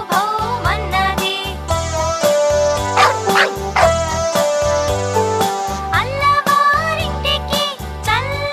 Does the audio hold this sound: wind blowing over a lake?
no